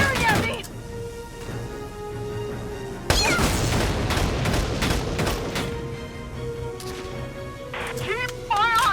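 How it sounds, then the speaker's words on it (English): Enemy gunfire in Valkyria Chronicles 4 lands as sharp booming shots and crackling bursts, densest after a sudden loud onset, mixed with game voices. "They're firing at me!"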